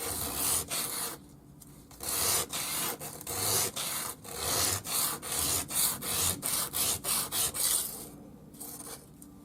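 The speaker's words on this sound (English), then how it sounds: "Now I've got 180 grit wet or dry sandpaper, and I'm just going to sand the back." Untreated turquoise nugget rubbed back and forth on 180 grit wet/dry sandpaper, a close, steady series of rough rasping strokes with brief pauses, speeding into short quick strokes toward the end, no voices.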